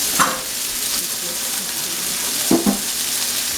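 Chicken sears in a very hot, greasy pan for a stir fry, with a continuous loud sizzle and a couple of brief stirring clacks.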